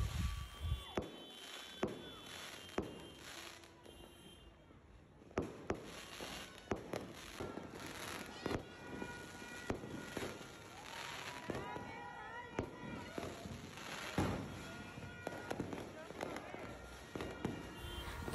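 New Year's Eve fireworks set off around a residential neighborhood, with repeated sharp bangs and crackling bursts scattered irregularly, some near and loud, others farther off, while people talk in the background.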